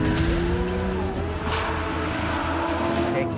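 Lamborghini Aventador SVJ sports car with about 700 hp roars close by, its engine note sweeping through the revs while the exhaust crackles and pops in short bursts.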